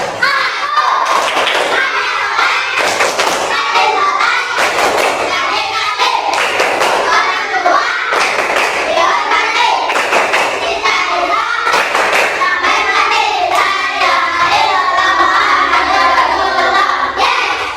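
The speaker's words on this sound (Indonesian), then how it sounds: "Coba tepuk anak soleh." Primary schoolchildren in an Islamic religious education class at SDN Botorejo perform the tepuk anak soleh clap chant, with loud rhythmic bursts of group clapping and thumping mixed with children's chanting voices, repeating steadily for many seconds.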